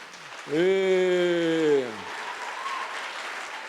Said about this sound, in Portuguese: Dá um aplauso para ela, por gentileza.